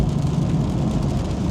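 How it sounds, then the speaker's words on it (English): Steady rain and road noise inside a car driving through a downpour in Seattle, a dense continuous low rumble with a hiss of water spray, no talking. "It is super rainy today"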